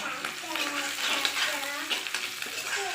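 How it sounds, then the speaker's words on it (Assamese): Onions fry in a pan toward golden brown, a soft continuous sizzle with occasional stirring scrapes, while faint voices murmur in the background. "পিঁয়াজখিনি অলপ ৰং হোৱালৈকে ভাজি আছোঁ গল্ডেন ব্ৰাউন হোৱালৈকে"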